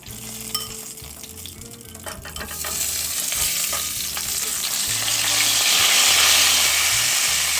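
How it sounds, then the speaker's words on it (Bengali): Microwave-boiled potatoes fry in a pan with a steady sizzle that swells louder and denser through the second half, punctuated by a few soft clinks near the start. "এই দেখুন আলুটাও ভালো করে ভাজা হয়ে গেছে"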